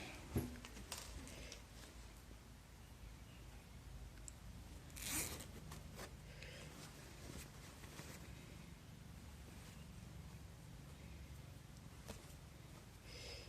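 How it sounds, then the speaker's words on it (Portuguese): An invisible zipper on a garment being sewn is pulled closed and opened again along its full length, soft close-up rasping strokes, faint and alone. "vamos fechar o zíper de novo, abrir o zíper de novo, todo até o final"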